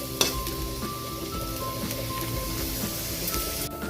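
Garlic and ginger sizzle steadily in a hot pan while a home cook prepares Filipino dishes. Close, even frying crackle with a few utensil clinks, and no talking.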